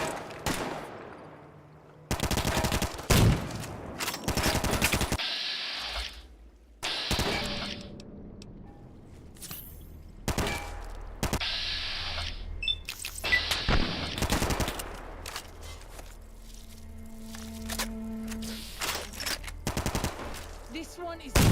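Heavy anti-materiel rifle shots in Fallout New Vegas crack out as loud, widely spaced single reports amid game noise, with a voice speaking between them.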